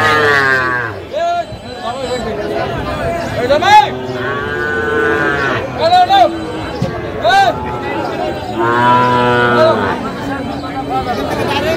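Sahiwal cattle moo repeatedly at a livestock market in Kushtia, loud and close, several long drawn-out calls overlapping with faint voices and chatter in the background.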